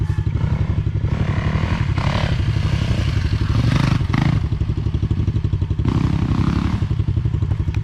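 A 450 motorcycle is ridden hard, its engine droning loud and steady up close with clattering and scraping from the bike over rough ground and rising bursts of throttle.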